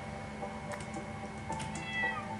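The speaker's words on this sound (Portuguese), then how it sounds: "Esse gato." Cat meowing in the Minecraft video game, a couple of faint short meows over a steady background hum.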